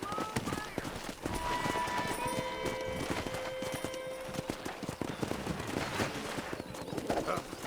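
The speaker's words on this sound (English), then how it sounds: "Let's see if we can't wrangle some horses." Horse hooves clip-clop at a rapid galloping rhythm amid a busy outdoor video game soundscape during horse wrangling, with occasional whinnies and background music tones.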